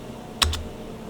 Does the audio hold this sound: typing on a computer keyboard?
yes